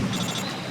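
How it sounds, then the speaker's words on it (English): The codec phone in Metal Gear Solid 3: Snake Eater on PS2 rings with a bright, dense electronic trill that is brief and steady, heard over faint background game sound. "Snake, answer your phone."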